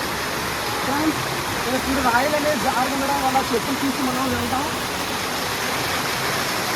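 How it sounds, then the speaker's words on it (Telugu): A waterfall in a dense forested hill roars as a steady, full rush of falling water, while someone talks over it for much of the time. "ఈ వాటర్ ఫాల్స్ దట్టమైన కొండలో ఉంది"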